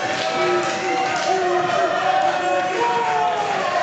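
Wrestling crowd at a women's tag team match in the Texas Contenders Series, a steady roar of cheering and shouting that fills the whole stretch at constant loudness, with commentary voices talking over it.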